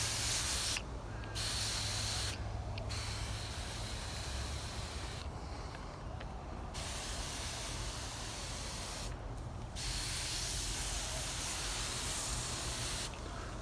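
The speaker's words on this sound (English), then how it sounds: "to spray the leaves" Weak powdered milk mix sprayed onto plant leaves in a home garden, a steady hissing spray running almost without a break, with a few short gaps, close and fairly loud.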